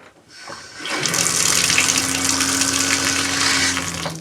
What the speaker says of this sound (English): So we're going to turn the faucet on,